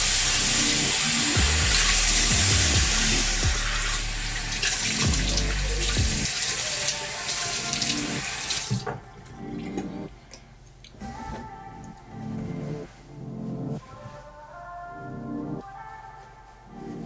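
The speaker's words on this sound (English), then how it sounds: "So we're gonna rinse off with cold water." Tap water runs loudly for several seconds, then stops, followed by softer splashing and dripping as water is cupped and rinsed.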